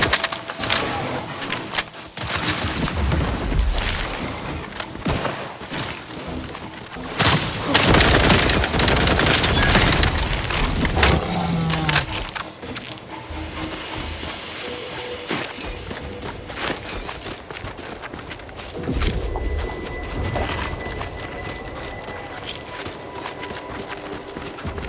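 Gunfire in the video game The Outer Worlds 2, a sustained cave battle: dense rapid bursts and booming shots layered over game sound for the whole stretch, loud and continuous with brief lulls, no speech.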